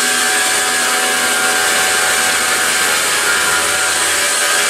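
A PM727MXL CNC mill runs a steady adaptive clearing cut 10 mm deep at 30 inches per minute, giving a continuous loud, hissing whine with a fixed tone and no pauses.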